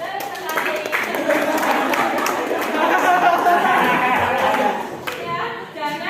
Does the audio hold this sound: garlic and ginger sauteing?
no